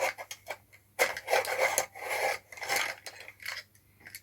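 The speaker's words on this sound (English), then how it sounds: "That's me sharpening it, by the way, with the world's worst sharpener." A hand-cranked sharpener grinds in a series of uneven rasping bursts, each stroke scraping loudly for about half a second to a second with short gaps between.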